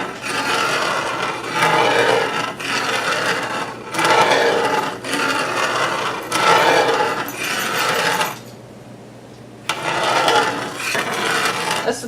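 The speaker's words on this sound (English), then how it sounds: "I like to move my spatula around like this real slow, scraping the bottom" A metal spatula scrapes slowly across the bottom of a gravy pan being made with seasoning salt, loud rasping strokes coming in several long passes with a short pause near the end.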